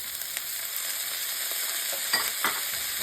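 Bok choy stems and celery frying in a pan for Singapore chow mei fun, a steady broadband sizzle with a few brief louder crackles and stirring scrapes near the end.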